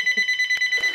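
Telephone ringing with a rapid, trilling electronic ring pulsing steadily at close range, with a couple of brief clicks and knocks alongside and no speech.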